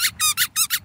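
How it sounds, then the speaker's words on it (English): A squeaky dog toy ball at a dog park gives five quick, sharp, high squeaks in rapid succession, loud and close with no talk. "I'm surprised Jay isn't all over that squeaking ball."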